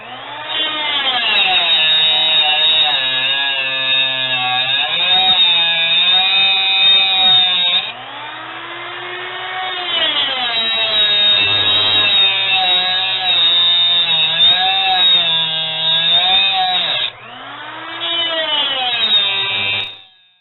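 A small 3-inch cutoff tool cuts through thick steel for knife making. It makes a loud, close, continuous whining grind whose pitch sags and recovers under load, with a few short breaks between passes.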